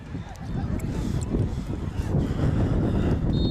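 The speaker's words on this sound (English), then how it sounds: "Windy night." Wind gusting across an outdoor high school football field on a chilly October night, a steady low rumble buffeting the microphone throughout, with a bit of crowd murmur and a voice faintly mixed in.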